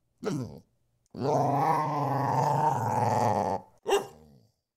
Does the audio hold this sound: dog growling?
yes